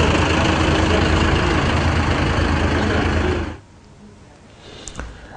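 A tractor engine idles with a loud, continuous low rumble for a few seconds, then cuts off abruptly, leaving faint background noise and a brief knock.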